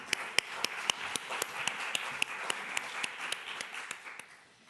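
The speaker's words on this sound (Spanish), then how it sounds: "Un fuerte aplauso, por favor." Audience applause at an interview event with a film director: sparse, evenly spaced claps over a soft steady wash of clapping, moderately distant and fairly faint.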